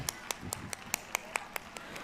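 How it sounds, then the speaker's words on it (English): A small audience claps in a regular, even rhythm for a school annual day as Grade 2 students come on stage, the claps crisp and fairly close. "Let's welcome them with a huge round of applause"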